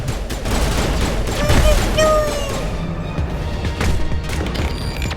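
Shotgun blasts and gunfire in a Mass Effect firefight, loud and dense with booming shots and crashing impacts layered over a steady rumble, with voices talking over the action.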